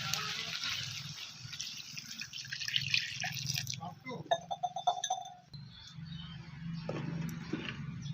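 Water poured into cooked spice paste in a pan, a wet splashing and dripping that comes and goes under a woman's speech.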